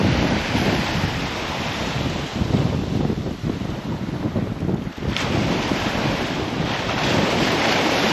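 Gusty wind sweeps a south-coast fishing beach with surf washing in nearby, a loud, steady roar and microphone buffeting that swells and dips briefly around the middle.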